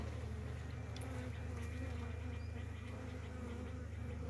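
A weak honeybee colony buzzes inside its hive, a steady, low, continuous drone with no pauses, fairly faint and unbroken by any voice.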